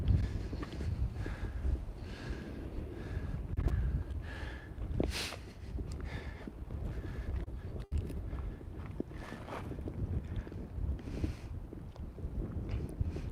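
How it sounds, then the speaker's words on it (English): Gusty wind buffets the microphone in uneven low rumbles, with scattered light rustles and footstep-like thumps, and no one speaking. "Can you see how windy it is?"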